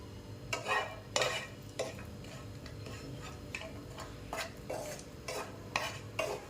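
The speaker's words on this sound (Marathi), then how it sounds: "पॅनमध्ये मी एक चमचा तेल टाकलं आहे आणि त्यामध्ये जे खोबऱ्याचे पातळ काप घेतले होते ते टाकायचं आहे आणि हलकेसे भाजून घ्यायचे आहे" Thin coconut slices roast in a spoonful of oil in a pan, a quiet low sizzle punctuated by irregular scraping and clicking strokes of a spatula turning them, no voices.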